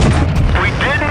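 A tank cannon shot lands in World of Tanks Blitz as a loud, heavy boom with a rumbling low end that fills the whole brief moment, while someone talks over it.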